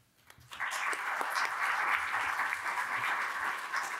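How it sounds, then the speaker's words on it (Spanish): An audience gives strong, sustained applause to the guests of a panel on training school leaders, beginning after a short quiet moment and holding steady, a fairly distant, even patter of many hands. "los despedimos con un fuerte aplauso"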